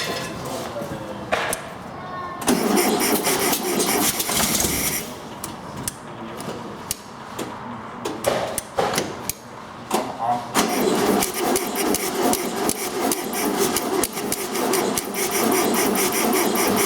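A 1974 rat-look VW Beetle engine cranking repeatedly without firing, loud churning bursts of starter and engine noise with short pauses between attempts, and someone talking in between.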